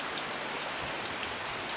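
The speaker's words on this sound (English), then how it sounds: "the first thunderstorm in Florida" Steady, dense rain from a Florida thunderstorm pouring down in a continuous hiss, close and even throughout, with no voices.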